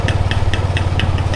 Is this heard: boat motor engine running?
yes